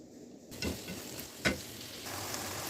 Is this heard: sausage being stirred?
yes